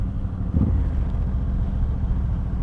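A Suzuki M109R motorcycle rides under throttle, a low, continuous engine rumble with steady rhythmic pulsing and wind buffeting, loud and close throughout the short stretch.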